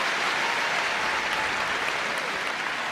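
Crowd in Birmingham applauding at a doubles match, a dense, steady roar of clapping from many hands throughout with no break.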